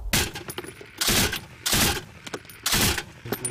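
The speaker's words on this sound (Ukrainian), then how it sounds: "лунали поодинокі стрілецькі черги і час до часу вибухали більш потужні боєприпаси" Repeated bursts of small-arms fire on the front line near the Sea of Azov, several loud sharp volleys at a roughly even rhythm with brief gaps between them, no speech.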